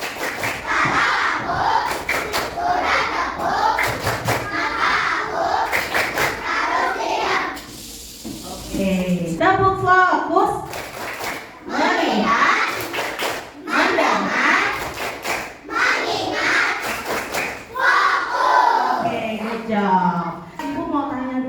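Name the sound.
classroom children doing a clapping chant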